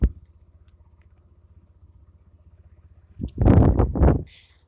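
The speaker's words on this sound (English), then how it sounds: "because it's a very unique sound because it's a 2-cylinder. It sounds like a really big moped." A 2015 Fiat 500 Society Edition's two-cylinder engine idles with a low, even pulse that throbs like a big moped. It then swells into a louder, growly rev for about a second before settling down, with no talk over it.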